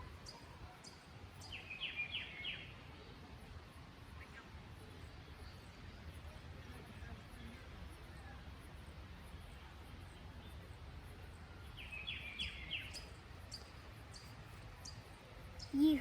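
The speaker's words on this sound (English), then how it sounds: "Those are birds chirping." Birds chirp in a botanic garden beside a pond, two brief faint bursts of calls rising above steady outdoor ambience with light rustling.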